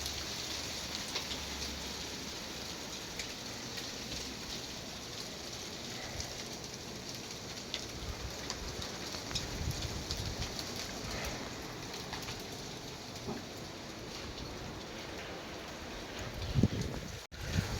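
Hail and wind during a sudden storm produce a steady, dense patter and hiss that stays broad and continuous, with a brief louder burst near the end.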